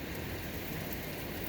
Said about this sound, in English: There's no hail. It's just pouring.